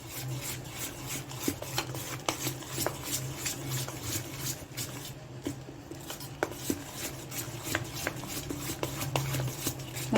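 Dal batter made from two kinds of lentils, with no soda added, being beaten by hand in a circular motion for crispy bhaji. A steady, soft rubbing and scraping continues throughout, with faint clicks against the bowl and no talking.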